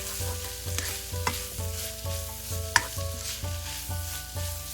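Chicken keema frying in a pan sizzles continuously as it is stirred in a steady rhythm of regular scraping strokes, close and fairly loud, with one sharper clink partway through.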